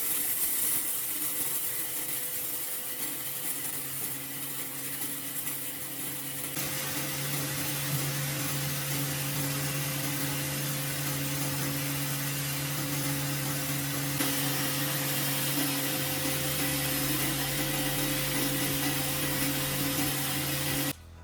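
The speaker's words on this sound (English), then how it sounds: "When I turn the cutter on, the blade spins fast and breaks the beans down into a fine" A cutter blade spins fast inside a pot, grinding beans into a fine, even grind. It makes a loud, sustained motor whir with a steady hum, and the tone shifts partway through as the grinding goes on, with no talking.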